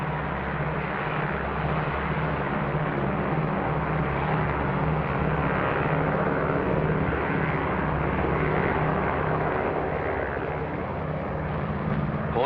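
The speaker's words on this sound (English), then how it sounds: "The B-29 and C-54 photographic planes bristle with cameras of every type and description" Propeller engines of B-29 and C-54 photographic planes drone steadily, a loud continuous low rumble with an even hum throughout, no voices.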